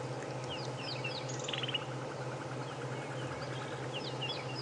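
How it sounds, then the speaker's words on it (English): Groundscraper thrush calling in short, sharp chirps and ticks, somewhat distant, over a steady low engine-like hum from a safari vehicle at Djuma Game Reserve, with no talking. "I can hear a ground scraper thrush"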